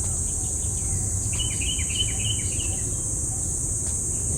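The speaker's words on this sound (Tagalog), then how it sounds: "Naririnig niyo po yung huni ng ibon" Several short bird calls ring out in a quick run near a rice paddy, held under a steady high chirping of crickets that carries on throughout, with a low background hum.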